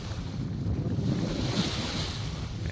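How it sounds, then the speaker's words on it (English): Small waves lap on bay water near an island in a steady, close wash mixed with low wind rumble on the microphone, with no talking. "there are some little waves here still"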